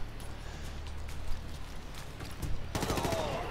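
Pistol gunfire in Ghost Recon: Future Soldier comes as a few sharp shots against a constant low game rumble, ending in a denser burst of rapid reports.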